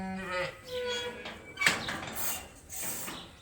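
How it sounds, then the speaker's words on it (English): Suffolk dry ewes being rounded up toward chutes on a hot day bleat in a loose overlapping chorus, several calls near and far, with clanks and a sharp metallic clack midway. "So we're going to move all these sheep to the other side so we can do their deworming."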